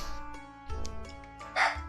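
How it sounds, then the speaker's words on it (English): A dog barking outside, heard as a few short, sharp barks spaced apart, somewhat muffled as if through a wall or window, with brief quiet gaps between them. "I can't concentrate with my dog barking outside"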